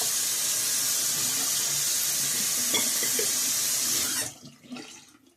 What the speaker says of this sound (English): empty out the bowl for my brush scuttle